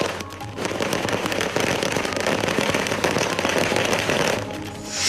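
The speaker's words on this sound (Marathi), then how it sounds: "अजित पवार गटाच्या कार्यकर्त्यांनी फटाके वाजून आणि एकमेकांना पेढे भरवत जल्लोष साजरा केला" Dense, continuous crackling of firecrackers set off at a political celebration, bursting in rapid succession, loud and sustained, with a brief lull near the end and no talking.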